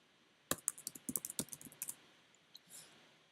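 Someone types a password on a computer keyboard: a quick, close run of about a dozen crisp key clicks, then a couple of stray taps, with no talking.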